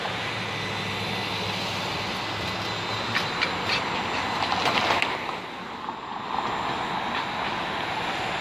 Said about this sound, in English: So this streetcar here will then turn onto the bridge, but it won't stop.